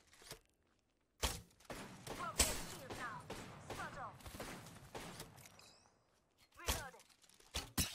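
Video game gunfire in a battle-royale style match: a series of sharp, quiet shots in short bursts with pauses between, under a player talking.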